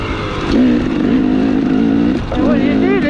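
A dirt bike climbs a dirt trail with its engine droning loudly nearby, pitch rising under acceleration, easing briefly, then pulling hard again; a rider's voice can be heard over the motor.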